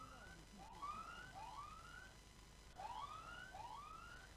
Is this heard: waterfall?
no